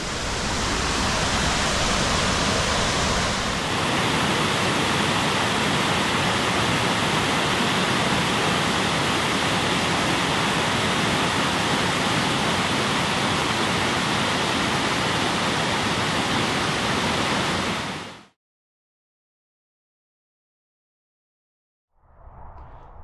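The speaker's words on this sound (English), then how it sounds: "Another waterfall." Clearwater Falls on Oregon Highway 138 pours with a loud, dense, steady roar heard up close, which cuts off abruptly before a brief faint return at the end.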